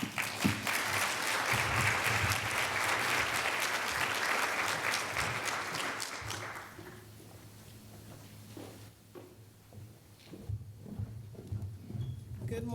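Audience applause fills a conference hall in Michigan to welcome a speaker, dense and steady for about six seconds before tapering into scattered claps and quiet room noise.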